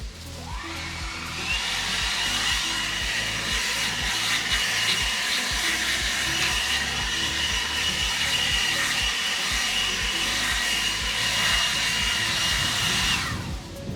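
Battery leaf blower (AlloyMan or Aoetree) running on its high setting outdoors, a loud, steady close-up whooshing roar with a motor whine that holds for the whole stretch before stopping.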